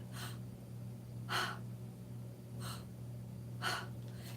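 Slow paced breathing exercise with four evenly spaced breaths, each a soft airy inhale or exhale, close and quiet, with no talking.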